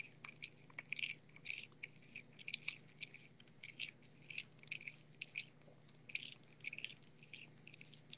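Small animal chewing and swallowing food, with soft close-up crunchy bites and wet clicks in an irregular patter over a low steady hum, fairly quiet and without talk.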